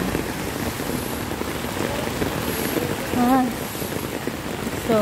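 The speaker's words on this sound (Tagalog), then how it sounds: "Sobrang lakas ng ulan." Heavy rain in Hong Kong pours in a steady, loud hiss of drops striking surfaces, with a couple of brief tonal sounds breaking through the downpour.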